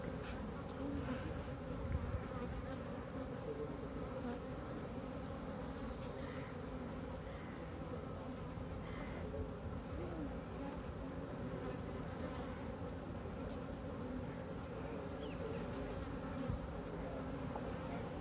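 Honey bees swarm and buzz steadily around an open beehive at an apiculture site, a dense continuous drone close by with no talking.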